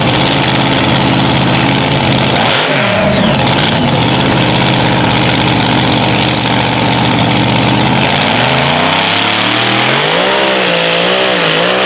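A 2500 HP racing buggy engine roars loudly and continuously, revving up and down with rising and falling pitch sweeps, a brief drop near the third second, then climbing revs toward the end.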